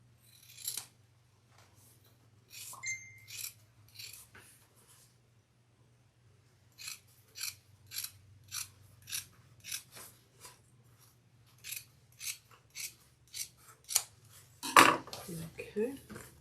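Scissors trim the edges of leather for a handbag in a run of quick, crisp snips, close and fairly quiet over a low steady hum, ending with a louder clatter.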